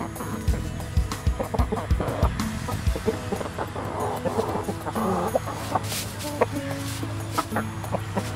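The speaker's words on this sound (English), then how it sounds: "The chickens are pecking on the leftover" Chickens cluck and peck at leftover palay in rice straw mulch, with repeated soft clucks and sharp pecking taps spread across the clip, fairly close and with no talk.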